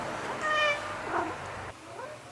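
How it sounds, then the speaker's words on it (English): A cat meows outdoors in a quiet neighborhood, a single drawn-out call followed by a softer second cry, fairly close and heard alone. "Oh, there's a kitty."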